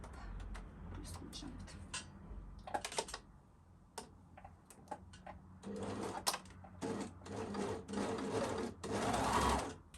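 An overlocker sewing machine stitches lace and a gusset for homemade panties in quiet, rapid mechanical bursts. Short runs of whirring are broken by pauses, ending with a longer, steadier run of stitching.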